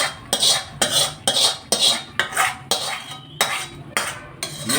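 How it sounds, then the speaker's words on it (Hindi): Masala being stirred into chicken pieces in a karahi pan: a steady rhythm of about ten metal scrapes and clanks of spoon against pan, close and fairly loud, with no talk. "ये जो मसाला है ये अभी मैंने चिकन के साथ डाल दिया और इसको अब अच्छी तरीके से हम मिक्स करेंगे"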